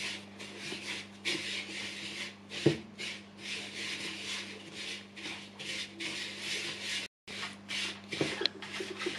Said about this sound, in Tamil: ப்ரவுன் சுகர் சக்கர் எல்லாத்தையும் நல்லா மிக்ஸ் பண்ணுவோம்.